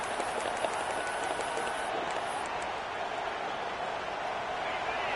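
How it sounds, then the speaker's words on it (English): Stadium crowd at an American football game roars in a steady, loud wash of noise that holds unbroken throughout, with no speech heard in the clip. "The roar of the crowd trying to fuel this defense to keep them pinned in their own end"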